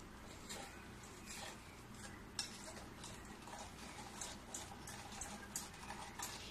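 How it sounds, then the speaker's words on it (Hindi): A spoon stirs butter, mango and sugar together in a bowl for a mango cake, giving a steady run of faint, quick scraping and clinking taps with no talk. "देखो मैं एक चम्मच ले ली हूँ और इसको मैं अच्छे से मिलाऊंगी।"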